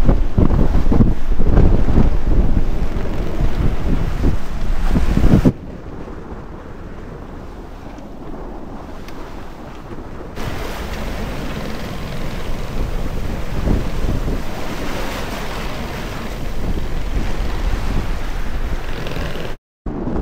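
Strong wind of force 7 to 8 Beaufort roars across the microphone while a boat sails between Corsica and Sardinia. The loud buffeting drops for a few seconds, then returns amid rushing water noise.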